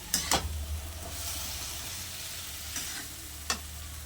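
Spices and panch phoron are stir-fried in a pan for a traditional village-style Katwa data stalk dish, giving a steady close sizzle with a few sharp scrapes of the spoon, no talking.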